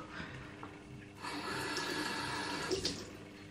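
Tap water running at a bathroom sink to dampen a flannel during a night-time skincare routine, a soft close rush that starts partway through and continues steadily with small splashes, after a quieter lead-in.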